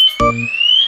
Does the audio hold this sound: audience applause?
no